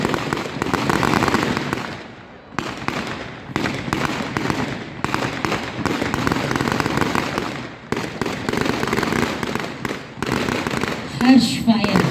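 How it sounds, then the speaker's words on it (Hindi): Ceremonial rifle volley, a feu de joie fired at a Republic Day police parade at the police lines in Jhansi, heard as loud, sustained crackling bursts with brief pauses between rounds, mixed with crowd and announcer voices. "हर्ष फायर"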